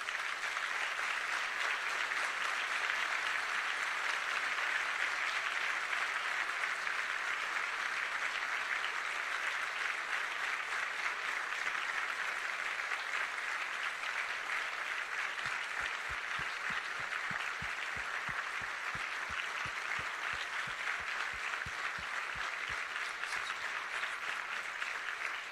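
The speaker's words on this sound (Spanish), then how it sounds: "Vamos a darle un fuerte aplauso al Espíritu Santo." A church congregation gives sustained, dense applause at a service remembering a late reverend. The clapping is steady and crowded throughout, with a faint low thumping rhythm joining later on.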